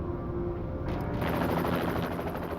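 A helicopter carrying a prisoner to a secure location drones steadily nearby, a dense rotor chop with a constant whine that thickens partway through and stays loud without speech.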